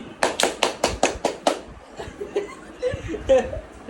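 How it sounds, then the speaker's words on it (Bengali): Several hands clap in a quick run of about seven claps at a small family celebration of a game win, followed by chuckles and laughter mixed with voices. "হাততালি"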